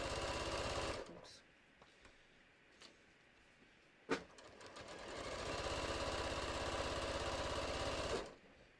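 Sewing machine quilting fabric for a bucket hat, a faint steady hum at the start, a quiet gap with small clicks and a knock, then a longer run of stitching.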